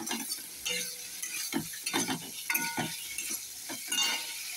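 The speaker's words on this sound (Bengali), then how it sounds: "দেখো আমার চিংড়ি মাছটা ভাজা হয়ে গেছে" Prawns frying in oil in a pan give off a soft sizzle, broken by several sharp scraping and clinking spatula strokes against the metal.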